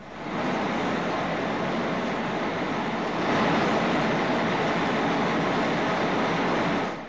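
A steam locomotive runs on the roller test bench at the Rugby testing station, producing a dense, steady mechanical roar and rumble that swells slightly midway and then cuts off.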